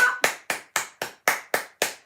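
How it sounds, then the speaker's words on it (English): A group claps along at a children's story time session after a nursery rhyme song, eight sharp, evenly spaced claps in quick succession, close and clear with no talking. "give yourselves a clap."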